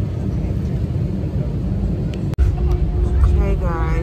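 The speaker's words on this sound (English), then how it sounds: "so the plane is landing right now. It's still moving." Airplane landing, heard from inside the cabin: a loud, steady low rumble of engines and rolling, with a sharp click midway and chattering voices nearby over the drone.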